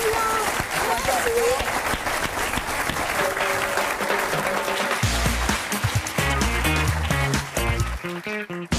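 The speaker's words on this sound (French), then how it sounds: "Vous pouvez applaudir Florence Foresti." A theatre audience cheers and applauds comedian Florence Foresti at the close of her stand-up show in loud, continuous clapping, with music swelling in beneath it partway through.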